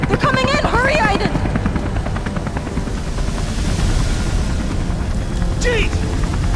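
Helicopter in the video game Beyond: Two Souls, a loud, continuous rotor thrum with fast chopping pulses, joined by shouting voices at the start and near the end.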